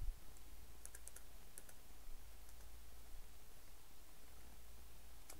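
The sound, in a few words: typing on a computer keyboard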